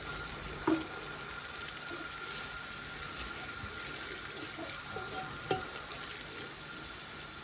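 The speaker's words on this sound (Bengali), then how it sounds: "এবার মশলাটা ভালো করে কষিয়ে নিয়ে একে একে সব তরকারিগুলো দিতে হবে।" Spice masala frying in a pan with steady soft sizzle, a few sharp utensil scrapes from stirring standing out, fairly faint and even throughout with no voices.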